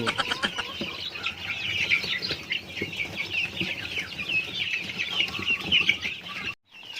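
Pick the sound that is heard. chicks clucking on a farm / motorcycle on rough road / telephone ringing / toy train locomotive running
chicks clucking on a farm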